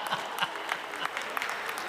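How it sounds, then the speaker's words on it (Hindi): Audience at a Holi comic poetry gathering honouring an MLA, brief scattered clapping, uneven and fairly close, with a voice partly audible over it. "इनके लिए तालियां बजा दो एक बार।"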